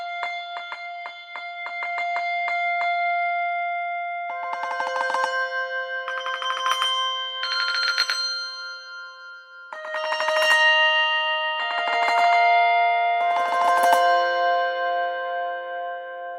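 Sustained, clear handbell tones from a virtual instrument ring out in a slow melodic sequence, each note re-struck on key release with a shimmering shake, bright and close with no voices.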